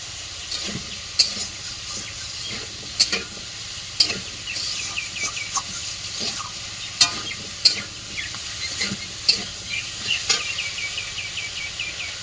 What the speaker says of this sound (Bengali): তরকারিটা আমি ভালো করে কষিয়ে দেবো।